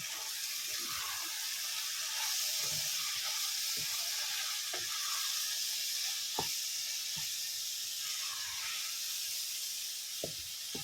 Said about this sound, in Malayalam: ഇനിയിപ്പോൾ ഇതിലേക്ക് കുറച്ച് മല്ലിയിലയും കൂടി ഇട്ട് കൊടുക്കാം എല്ലാം കൂടി ഒന്ന് ഇളക്കി യോജിപ്പിക്കാം